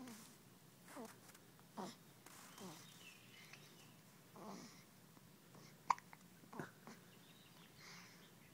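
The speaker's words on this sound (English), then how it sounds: "Baby hiccups." A baby gives a run of small, quiet hiccups at irregular intervals, a few of them sharper, heard close against a faint background with no talk.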